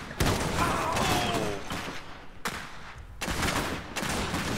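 Infantry gunfire from squads firing out of a building in the Iron Harvest strategy game, with bursts of rapid shots at close range and brief lulls between volleys.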